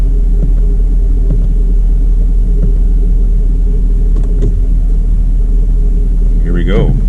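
A Chevrolet Camaro SS 1LE holds about 2,000 RPM before a launch, making a loud, steady low engine rumble heard from inside the car, with a brief voice near the end.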